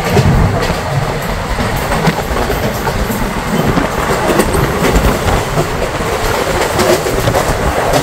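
Continuous rumble and rhythmic clatter of a passenger train on the Digha to Dakshineswar route running over rails, heard from inside a second-class coach, with steady wheel noise and faint clicks throughout.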